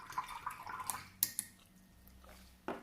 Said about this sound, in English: I'm just going to wash my brush off.